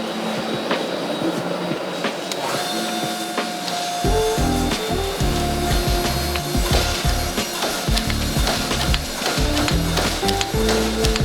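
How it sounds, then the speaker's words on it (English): A press straightens a twist-pattern Damascus steel billet in a forge shop: a steady mechanical hum gives way to a run of loud, low, rhythmic thumping pulses. "Now I'm going to straighten it back up on the press."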